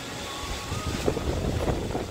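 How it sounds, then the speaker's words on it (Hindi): Strong, gusty storm wind roars steadily against the microphone during a rainstorm, with rumbling buffeting and a faint rushing-water sound beneath. "यहाँ पे तो भाई तूफान आ चुका है पूरा।"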